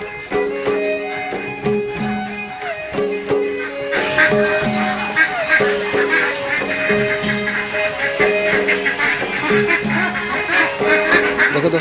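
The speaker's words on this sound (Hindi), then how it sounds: "ये हाँस है, देखिए हाँस, हाँस भी मिलता है ये डेली मार्केट में" Ducks quacking repeatedly in a busy daily market in Roing, Arunachal Pradesh, the honking calls overlapping and continuing throughout, fairly loud and close with general bustle behind.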